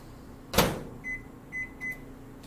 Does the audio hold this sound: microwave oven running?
yes